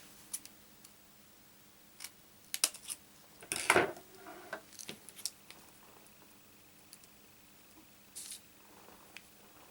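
Scissors snip through card stock while a waterfall card is being made, giving a few quiet, scattered clicks and short cuts with one louder snip in the middle, against a soft, quiet room background.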